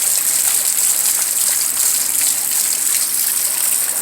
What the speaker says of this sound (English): Oh, beautiful, beautiful rain.